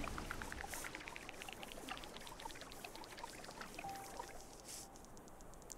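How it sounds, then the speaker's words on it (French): A small waterfall in the video game Terra Nil splashes and trickles steadily, a continuous moderate pour of water with no voices. "Oh, petite cascade."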